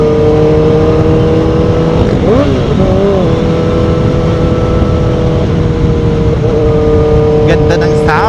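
A motorcycle engine drones loud and close during a ride, holding a steady pitch and then briefly revving up and dropping back, with wind rush throughout.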